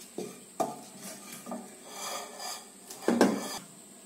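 Egg batter with banana flower, onion and green chili is beaten with a spoon in a bowl, giving quiet irregular clinks and taps against the bowl with soft stirring between them, close and faint, with no talking.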